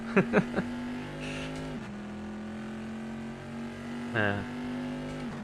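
A Corvette C7R race car at Watkins Glen in Assetto Corsa holds a steady, sustained engine drone, with brief higher revving bursts near the start and around the four-second mark, running continuously in the background.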